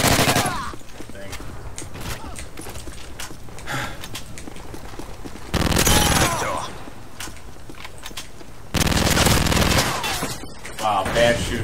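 Rapid gunfire bursts in the video game Modern Warfare 3, a free-for-all match, with dense repeated shots and louder clustered volleys around the middle and later, heard under a player's talk.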